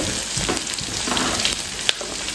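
Scrambled egg frying in a pan with onion, cabbage and carrot, giving a steady close sizzle broken by faint scraping and stirring clicks, with no talking.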